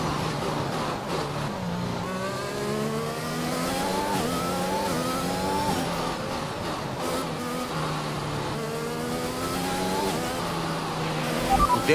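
Formula 1 race cars in the video game F1 2021 scream past each other while overtaking. Their high-pitched engines rev and shift up through the gears in a loud, steady wail that lasts the whole time.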